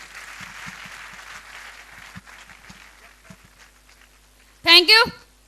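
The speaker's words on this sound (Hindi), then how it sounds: "जोरदार ताली मैडम यादव जी के लिए।" Loud applause breaks out near the end for a woman diamond leader at a Safe Shop double diamond celebration, a short burst of clapping after a stretch of speech and scattered quieter noises.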